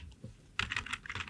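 Rapid keystrokes on a computer keyboard, a short burst of close, crisp clicks in an uneven rhythm after a brief quiet start, with nothing else audible.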